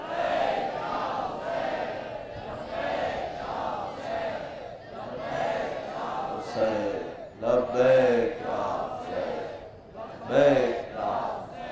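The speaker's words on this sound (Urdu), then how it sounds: "اس نعرے کو دہرا دیجیے گا، لبیک یا حسین" A seminar crowd chants the religious slogan "Labbaik ya Husain" in loud, massed unison. The voices rise in repeated rhythmic bursts that swell and fade.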